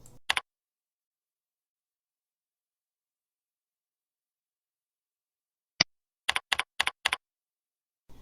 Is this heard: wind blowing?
no